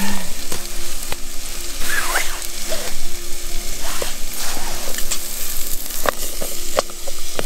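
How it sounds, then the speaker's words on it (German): Onions and garlic frying in a pan at a snowy winter campsite, a steady broadband sizzle with occasional clicks and scraping stirs, fairly loud and continuous with no talk. "Zwiebeln und Knoblauch kommen jetzt mit rein."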